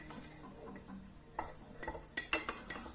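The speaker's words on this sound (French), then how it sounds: "Je vais mélanger." Heavy hot baking dish of spinach, feta and cherry-tomato pasta being stirred, with soft scraping and a few sharp clinks of utensil against the dish, fairly close and quiet, no talking.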